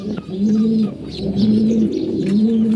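A pair of pigeons coo repeatedly while fighting, close and clear, with low rolling coos in a steady rhythm and some fluttering and scuffling between them.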